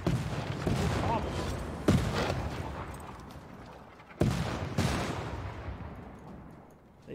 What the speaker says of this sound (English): They're shooting at my artillery.